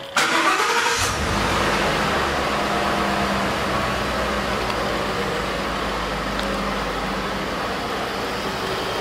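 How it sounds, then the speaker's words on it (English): A Ford F-150 FX4 pickup engine cranks and fires at the start, then settles into a steady, loud, close idle with a smooth low rumble and no ticking, running alone throughout. "I want you to hear this start up so you can hear that it does not tick"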